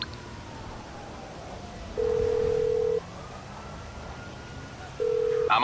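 Two clean, steady phone tones sound in a GTA 5 game as a call is placed to the mechanic, each a flat beep lasting about a second, separated by a quiet pause.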